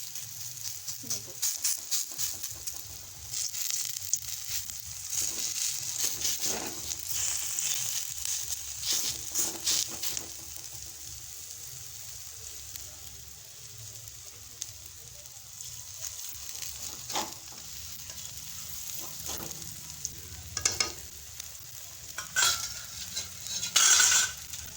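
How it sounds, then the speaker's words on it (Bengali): Drumstick flower fritters frying in oil in a village kitchen, a continuous soft sizzle with intermittent scrapes and taps of a spatula against the pan, moderately quiet and close. "দেখুন সন্না ফুলগুলো কি সুন্দর ভাজা হয়েছে, লাল লাল করে"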